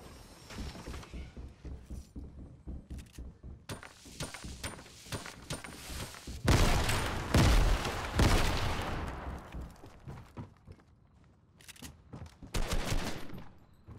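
SMG fire in a Fortnite match, loud bursts of rapid gunfire clustered in the middle, with scattered shots, clatter and footstep-like thuds before and after.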